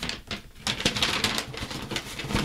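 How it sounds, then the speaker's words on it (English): Crinkly rustling of a paper bag during a monthly prize drawing, handled close by in quick bursts of crackle. "Oh, it's the paper bag. I hear it."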